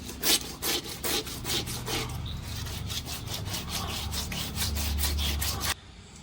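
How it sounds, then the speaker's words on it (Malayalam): Varal fish being scrubbed with ash, a steady rhythmic rasping and rubbing of repeated strokes, close and fairly loud, with no talk. "അപ്പൊ നമുക്ക് കുറച്ച് ചാരിട്ടിട്ട് മീൻ ഉരയ്ക്കാം."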